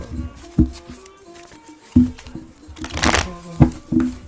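Tarot cards being shuffled during a reading, with soft riffling and sharp slapping bursts at irregular intervals and a longer dense riffle in the middle, close and fairly loud.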